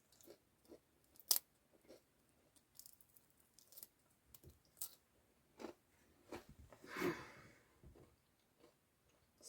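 Quiet crisp crunching bites into bread crust, irregular and close, with small clicks and a louder crackle midway; no talking.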